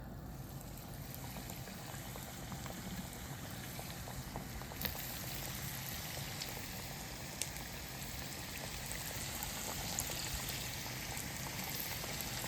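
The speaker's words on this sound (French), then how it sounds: "après, on va les faire frire" Chicken magnums fry in hot oil with a steady, even bubbling sizzle that runs throughout, a few faint clicks now and then, no voices.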